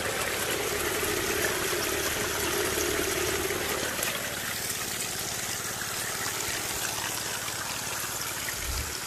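Steady rushing water from a gas-powered pump hosing out the hog mat of a gold trommel at an Alabama prospecting camp, a continuous even spray and trickle that holds its level throughout without speech.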